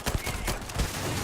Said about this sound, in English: Well, I don't have gun sound effects